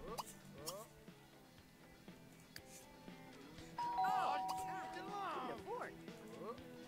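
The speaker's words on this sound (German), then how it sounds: "Oh, da hat Bock geklingelt." A doorbell rings in The Sims 3 game, bright chiming tones rising midway over game effects while people talk throughout.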